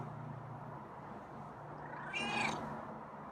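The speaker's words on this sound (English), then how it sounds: "Or raspy meow" A feral cat gives a single short, raspy meow near the end, fairly faint and somewhat distant against a quiet steady hum.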